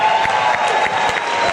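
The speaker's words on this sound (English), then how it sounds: "Give Brandon a round of applause." An audience applauds at a community gathering about the streets of Philly, giving a steady, fairly loud wash of clapping with scattered crowd noise and no clear voices.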